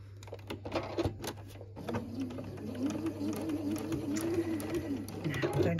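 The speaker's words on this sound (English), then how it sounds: "you're going to stitch down that seam there." A sewing machine stitches a quilt seam with a steady mechanical whir and rapid stitching rhythm that begins partway through and continues to the end, beneath a low hum and light handling noises.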